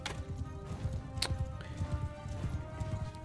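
A horse galloping in the video game Mount and Blade 2: Bannerlord, steady rhythmic hoofbeats thudding close and moderately loud over a faint background hum, with one sharper knock.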